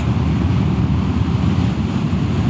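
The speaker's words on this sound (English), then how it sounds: "we have very strong wind from the front" Strong headwind roars and buffets against the microphone while riding a Royal Enfield Classic 350 motorcycle, a steady, loud low rumble of wind filling the whole stretch with no voices.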